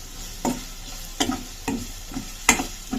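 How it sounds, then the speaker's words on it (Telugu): Onions frying in a pan for paneer masala curry and being stirred, a steady sizzle broken by regular scraping strokes of the spatula about every half second, close and moderately loud. "ఆనియన్ చూడండి బాగా వేగిపోయింది కదా"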